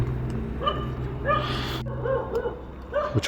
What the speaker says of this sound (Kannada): ನಾಯಿ ಬರೇ ಬಗುಳ್ತಾ ಇತ್ತಲ್ಲೂ